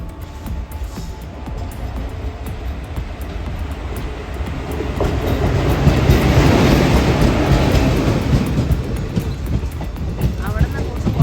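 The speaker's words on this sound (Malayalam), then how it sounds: "നമ്മുടെ ട്രെയിൻ ദേ ഇവിടെ വരുന്നുണ്ട്." A train draws steadily nearer along a curving village track in Kerala, its rumble swelling to a loud, close pass with rhythmic wheel clatter and faint voices mixed in.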